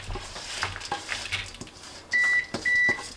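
A kitchen oven set to preheat to 275 signals it is ready with a few loud, high, steady electronic beeps, following some faint handling clatter, no voices.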